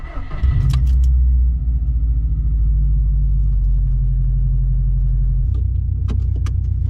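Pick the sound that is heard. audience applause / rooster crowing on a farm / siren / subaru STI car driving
subaru STI car driving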